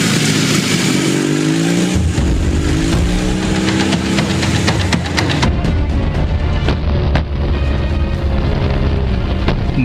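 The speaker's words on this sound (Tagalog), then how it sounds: "Mo ka to ang motorsiklo ni Kokok na sinaliga ni Daddy Mateo" A motorcycle engine revs loudly and close, rising pitch sweeps followed by rough sputtering and popping as it pulls away, with no talk.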